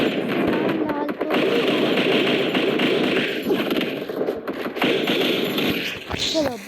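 Rapid gunfire from a first-person shooter game, a dense continuous stream of shots rattling on throughout, with a voice speaking intermittently beneath the clatter.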